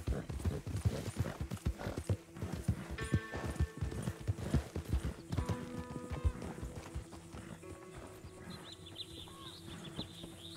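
Horses clip-clopping in Red Dead Redemption 2, a steady run of hoof taps on the ground with faint birds and farm ambience underneath, the footfalls easing off toward the end.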